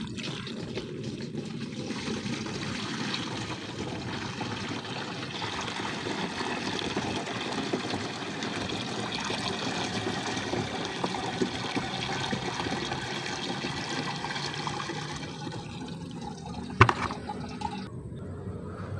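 Calcium fertilizer solution poured into a sprayer tank for chili plants, a steady, continuous stream of splashing liquid lasting many seconds, close by, ending with a single sharp knock.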